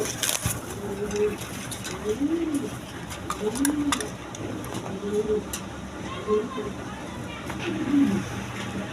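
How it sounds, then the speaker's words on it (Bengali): Pigeons of mixed breeds, including a pair of coloured Rajgolla pigeons, coo repeatedly in soft, rolling phrases roughly every second or so, fairly close, over a low background hum with faint scattered clicks. "এক পেয়ার কালারিং রাজগোল্লা কবুতর আছে দেখেন"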